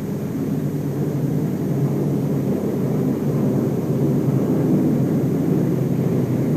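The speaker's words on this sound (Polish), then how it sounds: "Na misję poleciały samoloty bez jakiejkolwiek osłony." Propeller-driven WWII aircraft flying on a mission during the Battle of Britain: a steady, dense low engine drone held at an even loudness throughout, with no voices.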